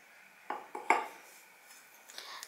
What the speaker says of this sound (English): Now mix all these ingredients very well.